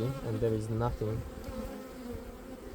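Honey bees buzz continuously around an opened beehive frame during a brood box addition, a close droning hum under a man's quiet speech.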